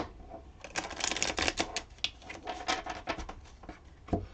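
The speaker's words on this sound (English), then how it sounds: "Maybe let's shuffle them one more time." A deck of playing cards is shuffled by hand for a magic trick, a close series of crisp riffling bursts and quick flutters spread over a few seconds, with no talking.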